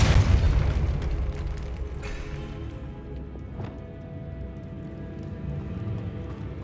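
A Depulso spell blast in Hogwarts Legacy, a deep booming impact at the start that rumbles and fades into a low sustained resonance with a faint sharp crack midway.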